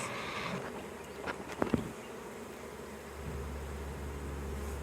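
Honeybees from a recaptured swarm buzz in a steady, close drone around a hive box, with a few brief handling knocks in the middle.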